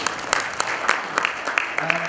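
Audience applause for a presenter at a technical conference session on faecal sludge treatment, a brief patter of clapping with distinct individual claps over room background.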